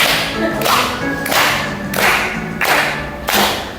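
Classroom group clapping along in rhythm during an Arabic-language lesson, with loud bursts of hands about every 0.65 seconds over a steady background of voices.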